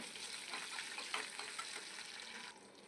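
Mustard seeds and cumin fry in hot oil while being stirred, giving a steady close crackling sizzle that drops off abruptly near the end; the tempering is for a Telugu sour spinach and chukkakura greens curry.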